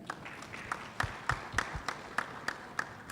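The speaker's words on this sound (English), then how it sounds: "And slightly bigger applause for the winning camp." Sparse, uneven clapping from a small debate audience honouring the winning team, individual claps spaced roughly a third of a second apart rather than a full ovation, moderately near.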